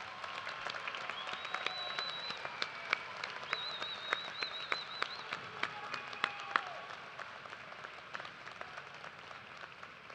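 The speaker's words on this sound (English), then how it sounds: "Graduates, please join me in another round of applause for these family members, friends, and loved ones" Commencement audience at a University of Toledo morning ceremony gives a sustained round of applause, dense steady clapping filling the hall with a few brief whistles and cheers rising above it, no talking.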